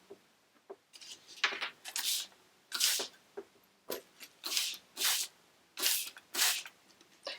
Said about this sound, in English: Okay, so I'm going to spray my page first.